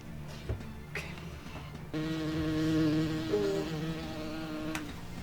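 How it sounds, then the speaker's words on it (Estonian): Bees buzz close by in a steady, droning hum with a wavering pitch, louder after the first two seconds and continuing alone with a few faint knocks. "Mesilased."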